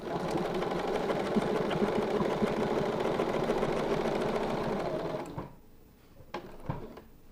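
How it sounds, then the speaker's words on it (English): A sewing machine stitches an arc on a quilt, running steadily with a dense, fast mechanical whir for about five seconds before stopping, followed by a few light clicks and handling sounds. "And now we're going to stitch the same portion or the same arc."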